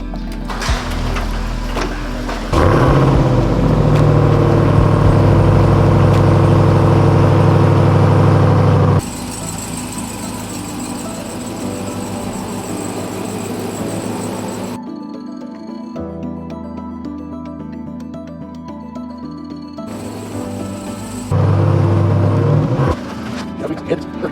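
A RAM TRX pickup truck's engine runs outside with a heavy, steady rumble that swells loudly for several seconds, drops back to a lower drone, then surges again near the end.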